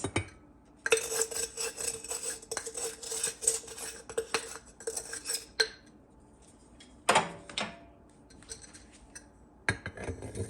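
A tablespoon scooping and measuring in a kitchen, making irregular metallic clinks and scrapes against a container in quick bursts, with short pauses between runs of strokes, close and fairly quiet.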